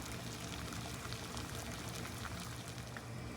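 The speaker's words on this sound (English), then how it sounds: "We have the water boiling, and we're putting in a pound of linguine." A pound of linguine goes into a pot of boiling water on a kitchen stove, giving a faint, steady bubbling and rushing hiss with no voices.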